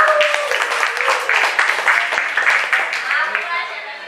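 A classroom of students claps together in a lively, steady patter, with voices chattering beneath the applause.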